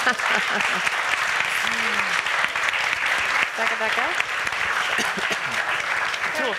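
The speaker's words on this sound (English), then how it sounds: "Can we give them an applaud as well, the whole team there?" A conference audience at a sustainable development event gives the organizing team a long, even round of applause, dense and loud throughout, with faint voices surfacing in the crowd.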